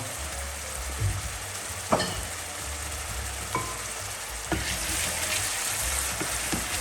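Onions with a teaspoon of salt fry in a pan with a soft continuous sizzle, broken by a few sharp clacks and scrapes of stirring, fairly quiet and without talk.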